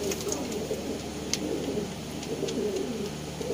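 Young parwazi cross pigeons coo softly in a continuous low murmur, with occasional faint chirps over steady background hiss.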